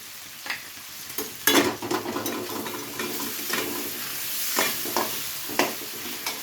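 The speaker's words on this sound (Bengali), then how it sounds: "সমস্ত কিছুকে হালকা নাড়াচাড়া করে ভেজে নেবো এবার।" Onions and shrimp frying in a pan for a lau chingri dish, a continuous sizzle broken by several sharp scraping stirs and clinks of a spoon against the pan.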